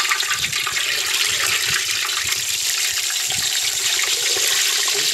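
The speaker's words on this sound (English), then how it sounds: "It's putting it in the grease." A whole turkey is lowered into hot grease for deep frying, setting off a loud, continuous rushing sizzle and bubbling that holds steady throughout.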